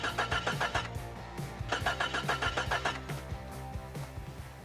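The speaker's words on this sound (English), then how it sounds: "Cranking, no start." A Jeep Comanche's starter cranks repeatedly without the engine catching, giving a rapid rhythmic chugging in several bursts with brief pauses, close and fairly loud, no voices.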